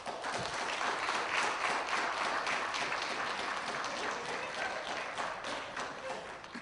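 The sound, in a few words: applause welcoming Professor Griff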